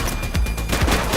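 Rapid gunfire during a police gang raid in The Precinct, a quick string of sharp, loud shots in close succession over about a second.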